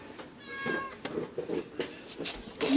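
A kitten meows softly indoors, a few faint, high mews with small rustles between them.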